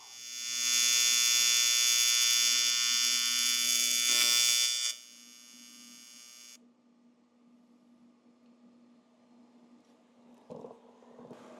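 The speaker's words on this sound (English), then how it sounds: "I could just dab a little bit more weld in there, and I think that's what I'm going to do" Steady high-pitched buzzing hum of a TIG welder laying a bead over a pinhole on a 2006 Yamaha YZ250, loud for about four seconds and then cutting off, leaving a quiet shop hum with a faint clink near the end.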